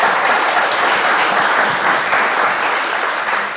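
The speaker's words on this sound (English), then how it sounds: "Let's welcome him with a round of applause." An audience claps steadily to welcome a speaker onto a stage at a finance talk, a dense, loud, even round of applause that runs on without voices.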